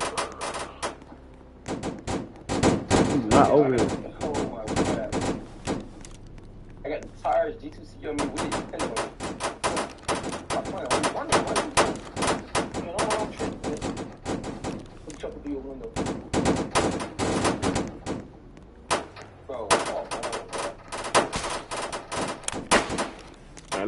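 Video game gunfire crackling in rapid bursts and single shots throughout, loud and close, with people talking over the shooting.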